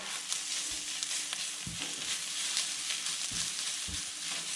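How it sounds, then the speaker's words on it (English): Garlic sweating lightly in a pan for chicken sukka gives off a soft, steady sizzle with a few brief stirring knocks, close and fairly quiet, with no talking. "So idea is to get the garlic going. It gets sweated lightly."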